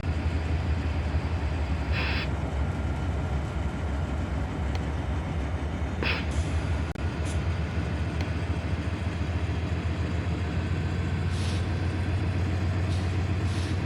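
Train running on rails in the Open Rails simulator game, a continuous loud rolling rumble with rhythmic track noise and a few brief high clanks or squeals, no voices.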